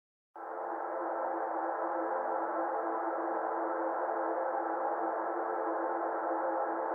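A pad chord built with a Magic Chord plugin on F3 in Ableton swells in quickly and sustains as a dense, buzzy, even wash of stacked notes with no other sounds.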